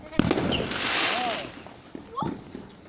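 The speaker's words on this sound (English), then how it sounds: "That's fireworks, yeah?" Bonfire night fireworks crack with a sharp bang early, then a long hissing fizz and whistle, with a couple of further pops near the end and some talk around them.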